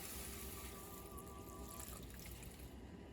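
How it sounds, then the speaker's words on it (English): Water pours steadily and softly into a pot of keto lupin dal, a continuous trickling rush with no talking. "I'm adding 2 cups of water."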